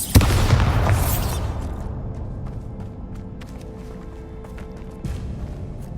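A Bombarda spell explodes in Hogwarts Legacy with a loud booming burst that fades over about a second, followed by quieter game ambience, light footsteps and a small thud.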